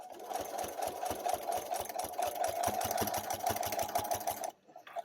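Sewing machine stitching binding onto a quilt, a loud, close, even rapid needle rhythm running steadily for several seconds before stopping abruptly, with no talk.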